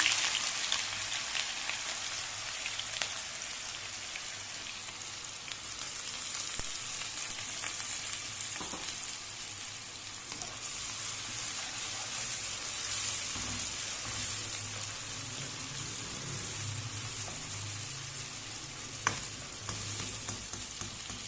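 Onions sizzle and crackle in half a cup of hot oil, a soft continuous frying hiss with occasional stirring scrapes, fairly quiet and free of talk.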